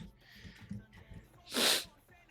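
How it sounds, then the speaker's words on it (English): Sniffling from chronic allergies during a casual podcast: a single sharp, close nasal sniff partway through, after quiet low speech from the same person. "Sorry for all the sniffling. I just have chronic allergies."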